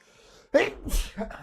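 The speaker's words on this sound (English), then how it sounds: "Hold on, I just sneeze again." A single sharp sneeze bursts out after a quiet moment, close and loud, followed by a short breathy exhale.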